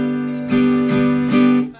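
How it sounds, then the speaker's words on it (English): A G barre chord is strummed on guitar three times, each strum ringing full and close with no voice over it. "So if we want to do a G bar chord,"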